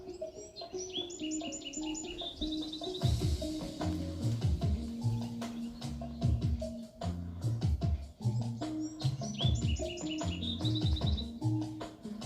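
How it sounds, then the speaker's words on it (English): Outdoor birds sing steadily throughout, with repeated bright chirping phrases and trills layered over a dense, continuous background chorus that stays fairly loud and even. "Listening to the songs of the birds."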